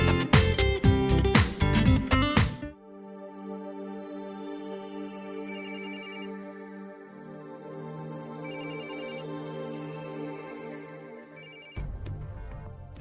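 A telephone ringtone plays a repeating electronic melody, loud and clear, after a few seconds of busier music; it sounds alone for about nine seconds before other sound returns.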